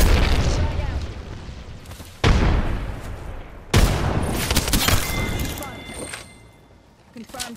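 Frag grenade explosions in the Apex Legends video game, two sharp booming blasts a second or so apart amid game noise and gunfire, with a player talking over them.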